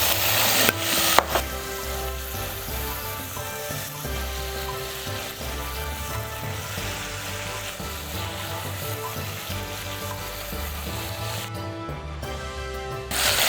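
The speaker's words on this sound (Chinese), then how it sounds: "然后用小火继续炒香" Pickled chilies and a hotpot base stir-fried over low heat for a Chongqing chicken pot, a steady soft sizzle and crackle with occasional stirring scrapes, continuous throughout.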